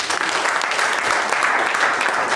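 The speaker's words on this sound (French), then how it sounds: "Acclame Jésus." A church congregation applauds with dense, steady clapping throughout, loud and close, with a few voices mixed in.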